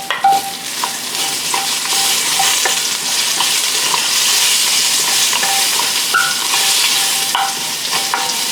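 Onions for a beef stew fry over high heat in a pot, giving a bright, steady sizzle with frequent spoon scrapes and taps as they are stirred, close and with no one speaking.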